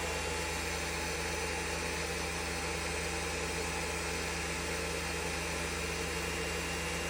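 A Matari single-phase generator running, giving a loud, constant, steady mechanical hum with no change in level throughout.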